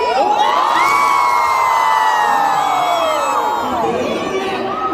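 A crowd of Filipino workers at an outdoor birthday celebration in Bahrain shouting and cheering together in one loud, sustained roar that tapers off near the end.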